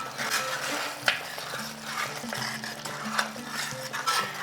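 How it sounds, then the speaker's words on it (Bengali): Mutton for a spiced curry is stirred in a pot over low heat, with soft clinks and scrapes of a spoon against the metal, a few sharper taps, and a faint background sizzle. "এরপরে আবারও এটাকে কষিয়ে নিচ্ছি।"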